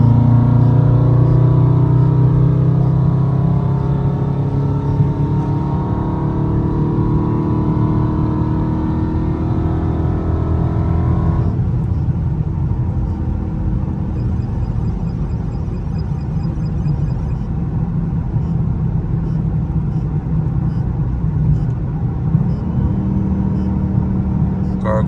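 A Dodge Scat Pack drones at speed on a highway, its engine a steady loud rumble with a shift partway through, heard from inside the cabin with road and wind noise and no talking.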